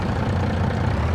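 A tractor engine idles in Farming Simulator 22, a steady low rumbling drone that holds even and close throughout, with no voices.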